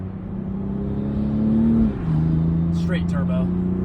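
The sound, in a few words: car revving with Alibaba aftermarket exhaust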